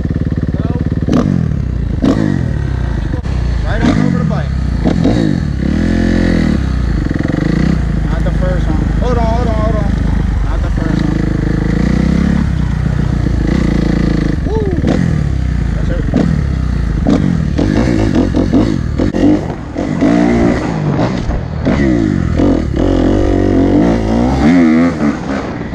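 Kawasaki KX250F four-stroke dirt bike engine revving loudly and continuously while ridden and jumped, with changing pitch throughout and people talking over it.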